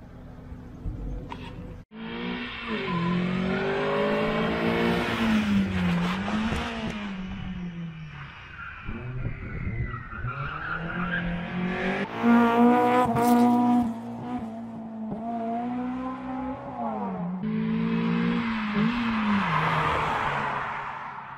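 A Mitsubishi Lancer Evo 10 running on E85 at a Varena street race stage revs hard and climbs through gears, its engine note rising, dropping at shifts and surging again, loud and close with occasional tyre noise.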